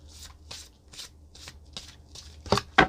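A deck of cards being shuffled by hand in short riffling bursts about every half second, close and crisp, with the last two riffles louder and sharper; no one speaks.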